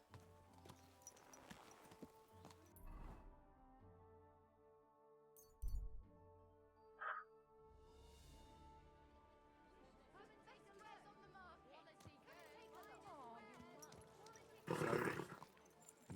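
Horse hooves in the video game Kingdom Come 2, soft clip-clop steps with a few clinking tack sounds and louder thuds, faint and intermittent, with a voice talking over part of it.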